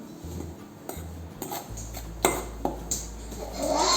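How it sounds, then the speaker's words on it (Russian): A tablespoon clinks and scrapes against a bowl in several separate knocks while mixing bread dough ingredients with yeast, close by, with a low steady hum beneath. "Столовой ложкой перемешиваем."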